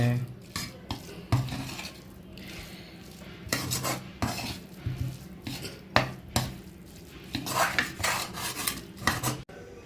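A spoon scrapes and clatters against a kadai while cooked rice is mixed into prawn masala, in irregular metallic knocks and stirring scrapes throughout, close and moderately loud.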